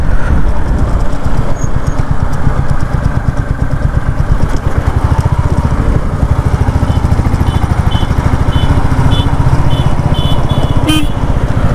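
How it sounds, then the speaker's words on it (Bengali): A motorcycle engine droning loud and steady nearby for the whole stretch, likely the rider's own bike on a road squeezed to a single lane where cars and bikes pass together, with a short high horn-like burst near the end. "একটা সিঙ্গেল জায়গা দিয়ে যে সব একসাথে চার চাকাগুলো বেরোচ্ছে, বাইকও বেরোচ্ছে।"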